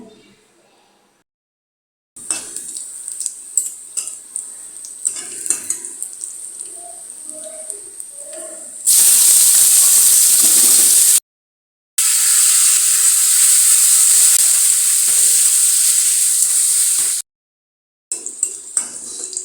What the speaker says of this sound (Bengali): শাক ভাজি করবো